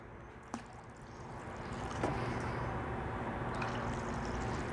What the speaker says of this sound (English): Top it off with a little bit more water.